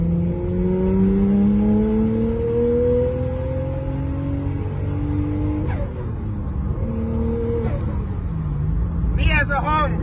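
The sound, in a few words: turbocharged car engine revving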